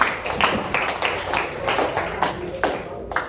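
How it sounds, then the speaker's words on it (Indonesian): A classroom of students claps in a loose, rhythmic pattern of distinct hand claps, roughly a few per second, fairly close and uneven, with no one speaking. "Tepuk tangan untuk lengkap."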